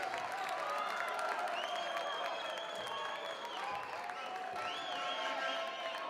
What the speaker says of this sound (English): Crowd making him hear it on that attempt there